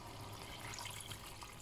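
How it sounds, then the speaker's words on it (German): Water pours over browned beef in a cooking pot while plov is being made, a soft continuous splashing and gurgling pour, fairly quiet, with no voices. "übergieße das mit Wasser"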